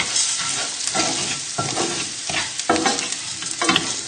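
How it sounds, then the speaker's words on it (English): Rice tipped into a hot pan and stirred, a steady close sizzle with repeated scraping sweeps of the spoon across the pan. "So just tip in your rice and give it a good stir."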